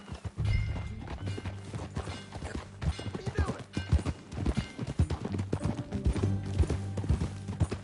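A horse being ridden on a ranch clip-clops in a steady run of hoofbeats, fairly close, over faint background noise.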